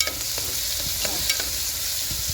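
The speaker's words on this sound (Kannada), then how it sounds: "ಸ್ವಲ್ಪ ಫ್ರೈ ಆಗಲಿ" Chopped onions with a little salt fry in hot oil, giving a close, steady sizzle broken by brief scraping stirs, with no voices.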